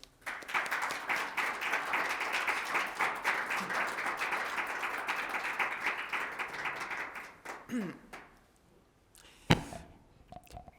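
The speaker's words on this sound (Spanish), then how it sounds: "Recibamos, por favor, a Juan Manuel con un aplauso" A poetry event audience claps to welcome a speaker, steady sustained applause for about seven seconds that tapers off, followed by near silence and a single sharp knock.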